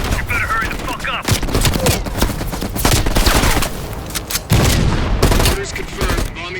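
Heavy machine gun fire in the Call of Duty: Black Ops Cold War mission 'The Final Countdown', loud sustained bursts and dense rattling volleys filling the whole stretch, with a voice briefly heard amid the battle noise.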